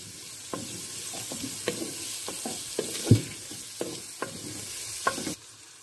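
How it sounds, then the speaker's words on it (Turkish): Meat being stirred in a pot with olive oil, a soft steady sizzle broken by regular scraping and knocking strokes of a spoon, one louder thud near the middle, ending abruptly. "Zeytinyağıyla şöyle etlerimi güzelce bir çeviriyorum"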